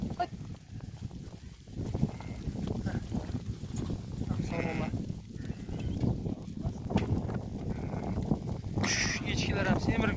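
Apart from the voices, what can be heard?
sheep and goats bleating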